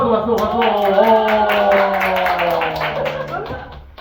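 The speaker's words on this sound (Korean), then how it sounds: "박수." Children clap in a school chapel service, a steady patter of applause close by, with a mix of voices and cheering woven through the clapping.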